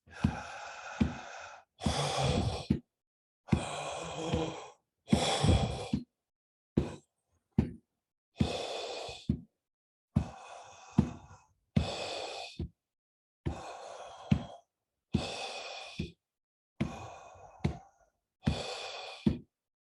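Deep, rapid breathing exercise with about a dozen forceful in and out breaths in a steady rhythm, each a loud, airy rush separated by short pauses, close up with no talking.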